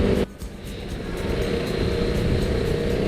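A KTM RC390 motorcycle engine roars steadily and loudly after a brief dip near the start, a sustained high-rev drone with wind rush filling the whole stretch, no voices.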